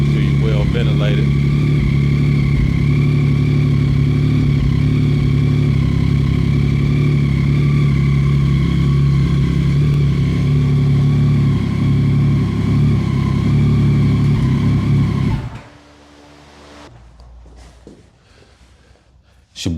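A Yamaha Tracer 9 GT motorcycle engine runs steadily at a loud, close idle with a deep, throbbing hum. It cuts off near the end, leaving quiet room sounds.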